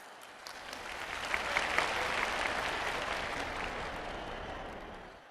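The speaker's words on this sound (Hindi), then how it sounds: "आप सबकी जोरदार तालियों के बीच" Strong sustained applause from a large audience at a public ceremony in India, a dense wash of clapping that swells slightly in the middle and carries steadily for several seconds with no voices over it.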